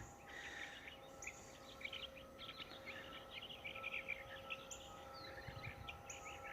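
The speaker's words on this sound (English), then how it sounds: "Beautiful birds are singing away." Several birds chirp and sing in repeated short bursts over a faint steady hum, moderately distant and fairly quiet.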